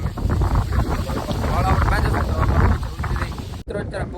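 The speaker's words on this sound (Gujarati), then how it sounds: "મિત્રો અત્યારે પવન ફૂલ છે" Strong wind buffets the microphone in a continuous loud roar on a windy rooftop pigeon setup, cutting out briefly near the end.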